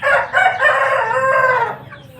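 A hen lets out a loud, drawn-out call close by, falling off at the end, with no other sounds around it.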